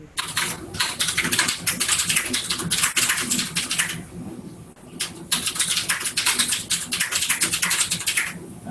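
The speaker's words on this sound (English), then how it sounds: "Just typing another comment in the pull request asking a question" Rapid typing on a computer keyboard, close and clear, in quick bursts of clicking keystrokes with a short pause midway before the tapping resumes.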